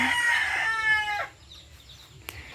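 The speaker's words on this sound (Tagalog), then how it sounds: "So, ito po guys yung mga chicken ni Papa." A rooster crows loudly and close in a rural provincial yard, the long call falling away, followed by a quieter stretch of faint clucking from the flock of chickens.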